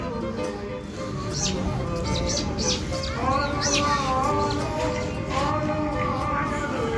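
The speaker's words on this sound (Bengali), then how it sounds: "পাখিগুলো ডাকছে, ভাবছি কি পাখি ডাকছে।" Birds call near the seaside at Digha in West Bengal, with repeated bright chirps and warbles over a steady background hum and some voices.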